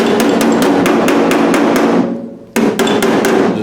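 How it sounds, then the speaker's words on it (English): A body hammer strikes a dented panel on an MGA car in quick, sharp metallic blows, a steady run of close, loud taps that pauses briefly and then resumes. "I'm going to use my body hammer"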